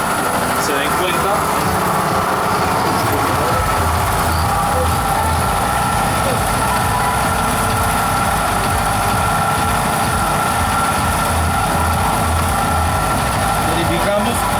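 A Honda Elite 125 scooter idles with a steady engine drone and an irregular mechanical noise, a continuous close hum with faint ticking, no talk.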